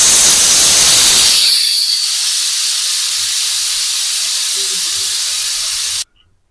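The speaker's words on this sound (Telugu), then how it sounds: "3 విజిల్స్ వచ్చే వరకు పప్పుని ఉడికించుకుందాం." Steam hisses loudly from a pressure cooker cooking lentils with chilli powder and tamarind in a home kitchen. A strong, steady rush fades partway, continues at a lower level, then cuts off abruptly.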